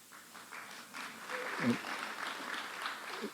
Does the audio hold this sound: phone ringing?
no